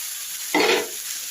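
Potato and cauliflower pieces hit a pan of cooked onion masala with a sudden burst of sizzling that swells briefly, then settles back into a soft steady hiss.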